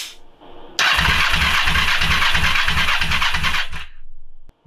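A Kawasaki Ninja 500R engine cranks on the starter during a compression test on its right cylinder, a loud, close, rhythmic churning lasting about three seconds before stopping.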